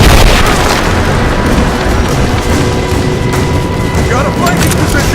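Heavy gunfire and booming explosions during a firefight in Rise of the Tomb Raider on PS4, loud dense volleys of shots and blasts continuing throughout, with voices shouting under the din.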